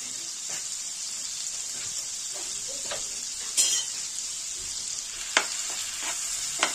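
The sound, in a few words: prawns frying in pan for prawn rezala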